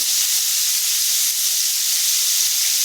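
Jackfruit curry vegetables fry lightly in a pan, a loud, steady, even sizzling hiss close by with no pauses and no voices.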